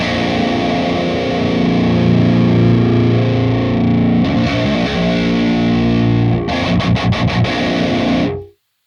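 A heavily distorted metal guitar runs through the Audio Assault Hellbeast amp simulator, chugging loud sustained riffs. Near the end come a few short, tight stabs before it cuts off abruptly into silence.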